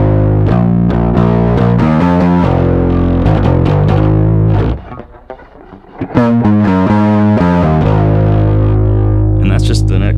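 Electric guitar played through a Barber Direct Drive overdrive and BBE Bench Press compressor gives a loud, sustained, heavily processed distorted tone with ringing chords, a brief quieter gap midway, then more sustained playing.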